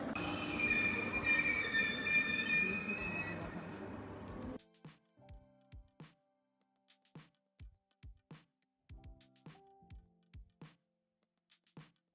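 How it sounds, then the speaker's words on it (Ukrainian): Train wheels squeal loudly for several seconds at a railway station in Lviv, with layered high whines over rumble, then stop abruptly and give way to a series of sharp intermittent clunks and knocks. "це будівля вокзалу"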